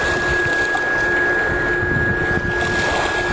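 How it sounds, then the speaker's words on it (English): A filter pump house runs beside the Lower Niagara River near Lewiston, New York, giving off a steady, loud mechanical drone with a constant hum that never lets up. "That's a filter pump house behind me there, that noise."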